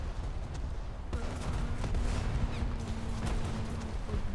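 Dense, rumbling bursts of naval cannon fire in War Thunder roll on continuously under a steady low hum, loud and booming.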